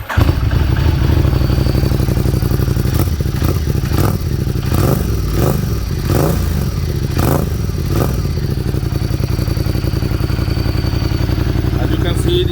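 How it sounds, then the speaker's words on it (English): A 2016 Ducati XDiavel S motorcycle engine runs at idle nearby, giving a loud, steady throb with a few brief rhythmic surges partway through. "I will turn on the bike just to show you how it sounds."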